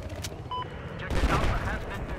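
A rapid burst of gunfire in Battlefield 2042 is aimed at a helicopter, a rattling volley of shots that surges midway and continues in a dense, mid-distance stream.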